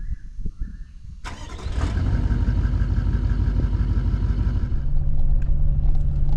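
A vehicle engine cranks and catches, then settles into a steady, close, rumbling idle and pulls away from a windy high-altitude campsite in the morning.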